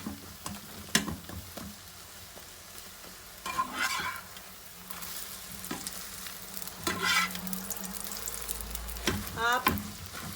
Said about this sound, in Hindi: ये अंडे हम लोग फ्राई कर लेंगे दोनों।